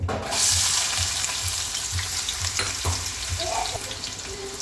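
Chopped onion dropped into hot oil for a mushroom tomato masala curry, a loud initial hiss settling into a steady close sizzle with periodic scraping stirs and a few clinks.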